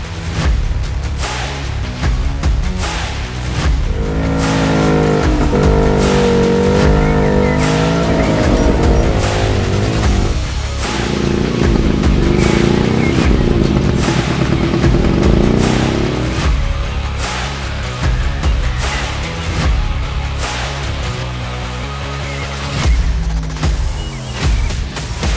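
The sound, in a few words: Suzuki LJ20 off-road car driving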